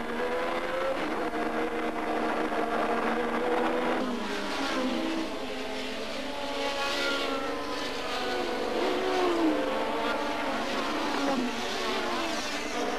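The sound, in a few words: Formula 1 car driving slowly with a punctured rear left tyre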